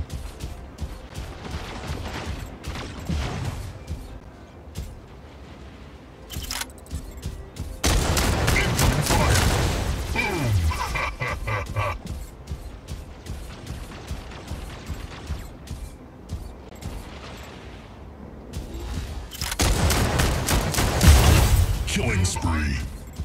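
Missile and weapon fire in the Mech Arena video game, with dense bursts of gunfire, booms and rapid volleys coming in waves, loud and near, under an announcer's game voice.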